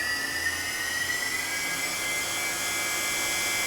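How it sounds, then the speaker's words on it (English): Spindle of a Fadal 6030 HT CNC vertical machining center whines at high speed, a steady close-up tonal whir with a thin rising pitch line and no talk. "you can hear how nice the spindle sounds"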